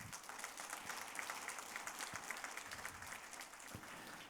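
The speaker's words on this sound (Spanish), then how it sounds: "Dale un aplauso al Señor." Church congregation clapping during a Spanish-language service, a steady, fairly quiet patter of many hands with occasional louder claps, continuous and without talk.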